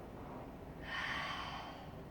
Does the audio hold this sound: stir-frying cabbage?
no